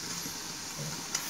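Urad dal vada batter frying in hot oil, giving a soft, even hiss that holds steady at low volume, with one tiny pop near the end and no voices.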